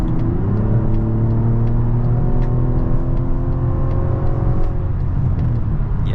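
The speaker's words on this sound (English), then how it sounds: "let's go ahead and do another acceleration here" A 2024 Mazda CX-90 accelerates with a smooth rising engine hum climbing steadily through the revs, heard from inside the cabin under a constant road rumble, with no talking.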